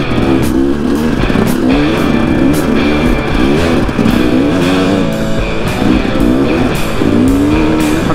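A KTM 300 dirt bike engine runs on a forest trail ride at Brown's Camp in Tillamook Forest, giving a loud, continuous, close-up drone that rises and falls with throttle changes throughout.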